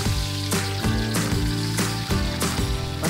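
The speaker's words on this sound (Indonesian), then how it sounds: "Pertama, emak goreng dulu nih tempe yang udah dibumbuin" Seasoned tempe frying in hot oil in an outdoor cooking spot, a steady loud sizzle with bursts of crackle recurring about every half second, no voices.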